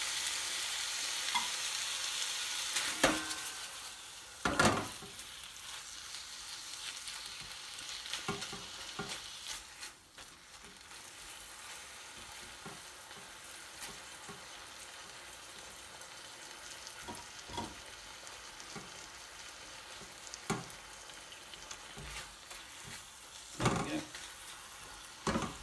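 Sweet coconut rice is stirred and mixed in a pan with soft sizzling underneath. Scattered scrapes and knocks of the spoon recur over a quiet, fairly faint background.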